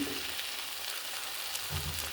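Vegetables (cauliflower, taro and potato) tipped into a pan of sizzling fried spice paste in a village kitchen: a steady, close hiss of frying oil with a soft stirring scrape near the end.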